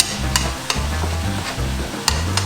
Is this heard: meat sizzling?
yes